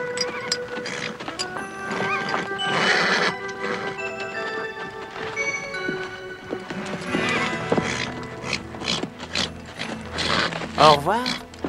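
A stallion whinnies and neighs while its hooves clip-clop close by, with shuffling and creaking movement around it and a sharp neigh near the end; a voice speaks over parts of it.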